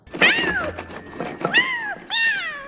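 A cat trapped in a box shrieks as the box is shaken, three loud, close, drawn-out yowling meows, each sliding downward in pitch, separated by brief pauses and a dull thump.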